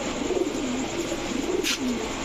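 Black Lahori pigeons, a jumbo-sized pair, give soft repeated rolling coos close by, the calls overlapping in a gentle rhythm over steady background noise, with one brief sharp hiss near the end.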